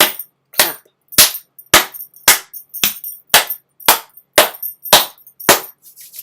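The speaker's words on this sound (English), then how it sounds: "So if you went deep like me, just clap." Hands clapping sharply in a quiet room after a guided meditation, about ten crisp, evenly spaced claps, close and loud, alone with no talk.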